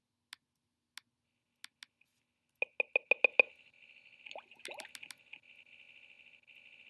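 Bubbles sound effect from a Scratch project: a few sparse clicks, then a quick run of watery plops building in loudness, followed by a soft, continuous bubbling trickle, heard alone and fairly quiet.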